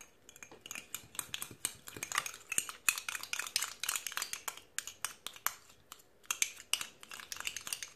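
A utensil stirs mascarpone with a few drops of lemon and a pinch of salt in a bowl, making quick, light clinks and scrapes in a busy, even rhythm close by.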